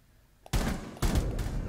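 Gunfire in the Rainbow Six Siege video game, shooting through a box: two loud bursts of shots, one starting at about half a second and a second about half a second later, after a quiet lead-in.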